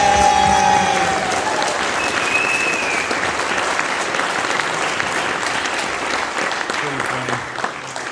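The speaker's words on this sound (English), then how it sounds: "Please give all the wrestlers a great applause." A crowd at a high school hall of fame induction banquet applauds loudly and steadily, dense clapping filling the space, with a few voices and whistles mixed in before it slowly tapers.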